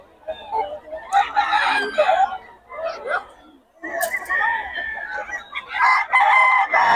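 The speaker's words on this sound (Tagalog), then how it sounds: "Puro solid manok ni Boss Perry" Roosters crow and chickens cluck at a busy poultry market in Bocaue, several birds calling close by in overlapping bursts while people chatter around them.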